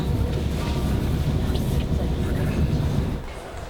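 A KTX high-speed train gives off a heavy, continuous rolling rumble close by, then fades slightly at the end.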